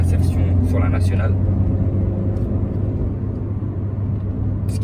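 A petrol Mini One R50's engine hums steadily at high revs, around 4000 rpm, from inside the cabin, a low continuous drone with faint road rumble and brief voices early on.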